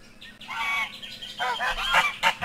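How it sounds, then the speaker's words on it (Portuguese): A recording of an angry goose honking, a run of loud, harsh, closely spaced calls that rise in intensity toward the end, with no voices over them. "Eu tenho o som do ganso enraivecido aqui."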